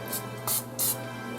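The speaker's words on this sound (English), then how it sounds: "I have to spray this down too." Cooking spray hits a pan for pancakes in three short hissing bursts, the last two longer, heard close over a low steady hum.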